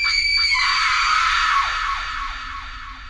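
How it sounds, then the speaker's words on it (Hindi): Sudden loud scream from a house for a Hindi horror story, a piercing sustained shriek that wavers and slowly fades over a few seconds. "तभी एक घर से अचानक से जोर से चिल्लाने की आवाज आती है"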